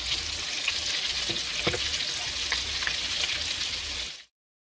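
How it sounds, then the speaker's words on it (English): Haitian meatballs fry in oil over medium to high heat, giving a steady, close sizzle with scattered pops and crackles before the sound cuts off abruptly into silence. "We are going to fry them medium to high heat."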